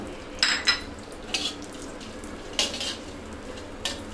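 Cumin seeds frying in a pan for shahi paneer, with a soft background sizzle and a few brief clinks and scrapes of a spoon against the pan, close and fairly quiet with no voice.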